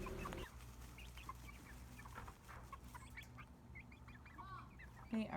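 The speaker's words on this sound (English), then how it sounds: "It's funny what excites chickens." Heritage-breed chickens cluck and chatter excitedly over fresh wood chips in their coop, with a steady low murmur of clucks and several sharper calls, one loud squawk near the end.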